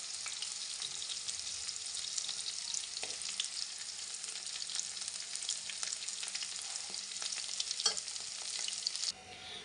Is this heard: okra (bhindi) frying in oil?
yes